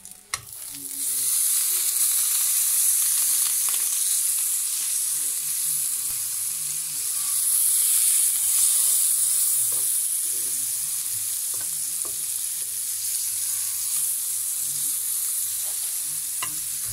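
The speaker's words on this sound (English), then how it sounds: "cooking on the frying pan." French toast fries in butter in a frying pan with a steady, close sizzle throughout, with occasional faint clinks and stirring sounds and no talking.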